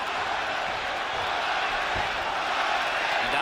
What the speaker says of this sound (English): Crowd is lively